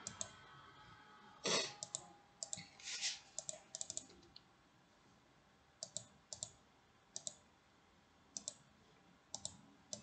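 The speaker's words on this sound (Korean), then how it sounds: "여기 필기를 할 부분을 선생님이 타이핑해서 알려주도록 하겠습니다" A teacher types on a computer keyboard during a middle-school lesson, sparse irregular clusters of crisp key clicks with gaps between them, close and quiet, no voices.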